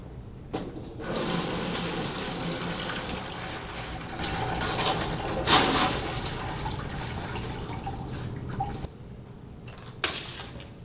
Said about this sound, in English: After the 15 to 19 hours, you have to carefully decant the excess water.